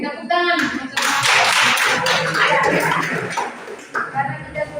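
A classroom of students claps loudly together for several seconds, with a brief pause and then more scattered clapping, and voices are mixed in.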